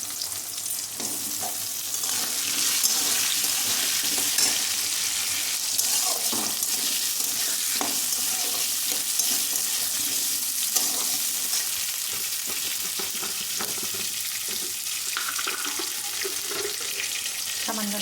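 Diced potatoes fry in a pan, a steady bright sizzle filling the whole stretch with intermittent scraping and stirring clatter, close and continuous, while a voice talks quietly in the background.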